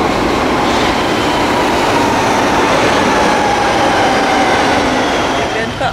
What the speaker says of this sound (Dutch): Daar komt de metro.